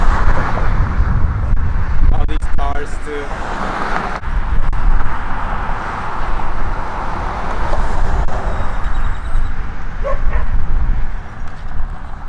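Dog barking at a dog park, with an Akita present among the dogs; a few short yips and barks come through outdoor background noise, moderately loud and not close, with no clear speech.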